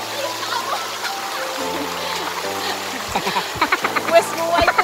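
A stream and waterfall on the Kalidonia nature trail in Cyprus make a steady broadband rush of water, with splashy bursts near the end and voices talking over it.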